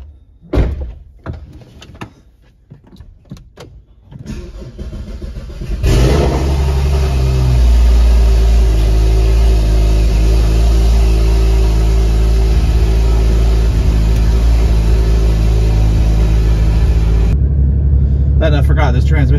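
A Porsche GT4 after a transmission fluid change, with a few interior clicks and shuffles before the engine catches and settles into a loud, steady drone that fills the rest of the clip, then briefly eases near the end.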